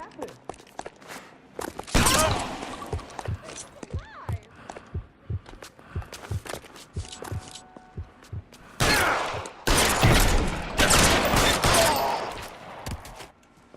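Bursts of gunfire in the L.A. Noire video game, loud volleys clustered near the start and in a heavy sustained stretch later, mixed with scattered footsteps and thuds, and brief voices heard between shots.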